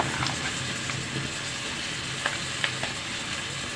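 Spice paste with chili powder frying and being stirred in a pan for a Bengali duck meat bhuna, a steady soft sizzle with a few sharp scrape and clatter ticks from the spoon, close and alone.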